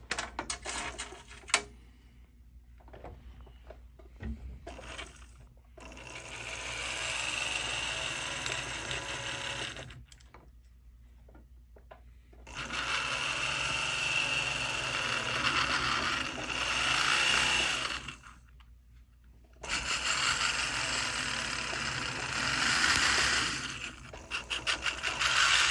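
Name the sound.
rotary burr cutting a custom ring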